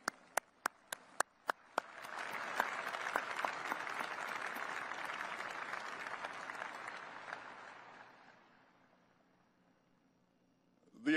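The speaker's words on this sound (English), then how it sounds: "let's give them a round of applause" Audience applause at the unveiling of the Northrop Grumman B-21 Raider bomber, beginning with a few sharp claps and swelling into sustained, even clapping from a large crowd that fades out over several seconds.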